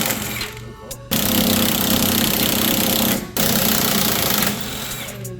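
A power tool, likely an impact wrench, working loose the sway bar end link bolts on a G35 coupe during an engine swap: loud continuous hammering rattle in two long bursts with a brief pause, close by.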